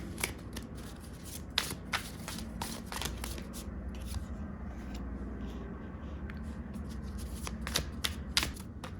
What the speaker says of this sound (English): they'll be easy to riffle and also easier to like hand over hand